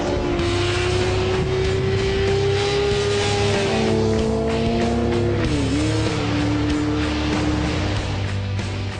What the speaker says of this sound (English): 600cc motor in the R6 cranks out 130 horsepower.